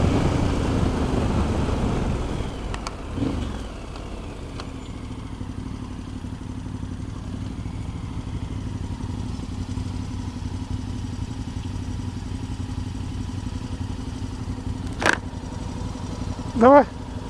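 A motorcycle rides into a muddy tunnel beneath a bridge in Mongolia, its engine a steady, close drone throughout, with a few brief clatters and a sharper rev near the end.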